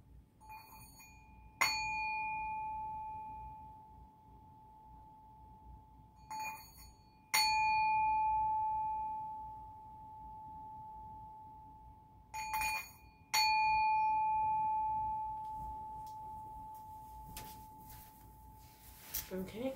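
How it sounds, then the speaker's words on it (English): A singing bowl is struck four times at a steady pace, each strike a bright metallic ping that opens into a pure, sustained ring and fades slowly, heard close in a quiet room. "I'm also going to do the singing bowl first"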